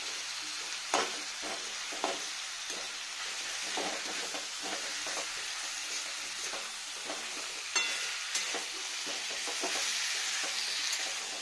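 Cauliflower and potato curry fries in a pan, a steady close sizzle broken by repeated scrapes and knocks of a sharp spatula as it is stirred, with no talk.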